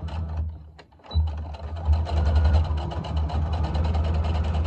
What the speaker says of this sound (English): I just chain stitch and just keep pushing them through